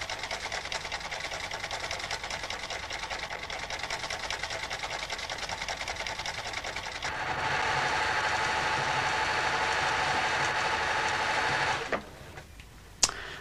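A sewing machine runs with a fast, even mechanical whirr, then switches to a louder, denser stitching rhythm as the cam follower moves to a different stitch pattern, before slowing and stopping with a final clunk.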